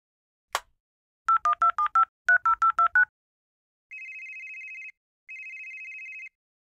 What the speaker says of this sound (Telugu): శాన్వికి కాల్ చేసి తెమ్మని చెప్పు.